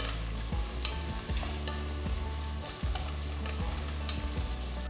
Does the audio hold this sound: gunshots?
no